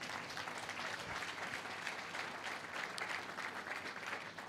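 Congregation applauding during a church sermon, a sustained, even patter of many people clapping together, fairly quiet and heard from within the room, with no speech over it.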